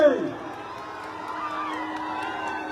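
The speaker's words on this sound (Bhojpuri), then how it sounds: "तालियां जोरदार बननी चाहिए" An audience at a Khesari Lal Yadav stage show in Jharsuguda, Odisha, roars and cheers, with whoops rising from a dense, continuous crowd noise that fills the short moment.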